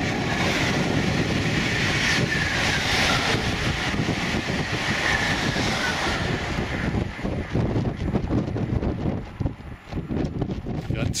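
A train passes on a high-speed line in rural Spain near Segovia, a loud sustained rushing roar with rattling that fades and grows uneven toward the end, heard from close by.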